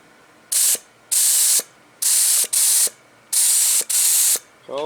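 Paint spray gun adjusted to a very light mist over a car's new paint job, hissing in six short bursts of about half a second to a second each, with brief quiet gaps between them.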